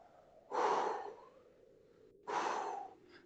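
Two slow, close breaths from a person standing nearby, each a soft rush of air with a quiet pause between, heard alone in a hushed audio drama scene.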